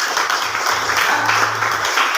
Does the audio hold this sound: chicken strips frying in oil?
no